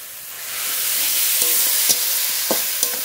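Mustard greens fry in a pan while being stirred: a rising, steady sizzle with a few sharp scrapes and clinks of the spatula against the pan.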